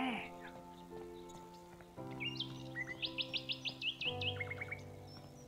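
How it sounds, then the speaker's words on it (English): Bright bird chirps and short repeated tweets ring out in a video game's background, set against a soft sustained musical tone that shifts in steps. "The melody they hear in the background. Of course, the bird songs."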